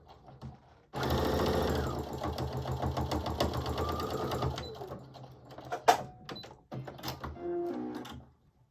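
A sewing machine stitches a back stitch on a onesie, a steady fast mechanical whir running loud and close for several seconds, then broken by short stops, clicks and brief restarts.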